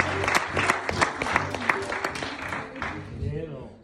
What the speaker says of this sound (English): Somebody clap their hands and give Jesus a praise